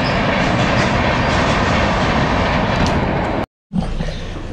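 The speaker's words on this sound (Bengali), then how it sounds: "ট্রেন যাচ্ছে গালুডি স্টেশন থেকে মাত্র 5 মিনিটের ডিস্টেন্স।" Train rumbling past close by near Galudih station in Ghatshila, a loud continuous roar that cuts off abruptly near the end.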